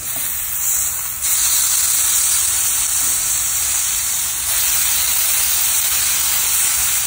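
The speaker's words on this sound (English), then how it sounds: "now it's been four minutes and we're flipping the steak" Steak sizzling in a pan just after being flipped, a steady loud hiss of frying that fills the whole clip with no talk.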